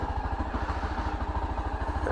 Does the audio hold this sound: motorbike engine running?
yes